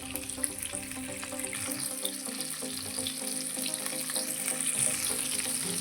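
Bangda mackerel coated in rava frying in a pan, a soft steady sizzle beneath louder background music, no talking.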